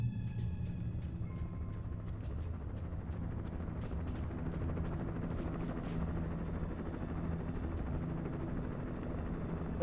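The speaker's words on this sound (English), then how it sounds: "why do I hear a helicopter but I don't see it?" A helicopter drones steadily overhead in the video game Alan Wake, a continuous low rumbling whir at moderate distance that holds for about ten seconds with no talk over it.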